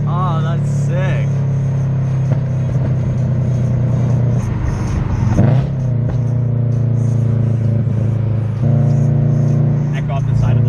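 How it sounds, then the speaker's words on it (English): Nissan 300ZX engine droning steadily at close range with shifting revs and a brief surge, its sound echoing off a roadside guardrail, loud and continuous throughout. "Echo off the side of the guardrail here."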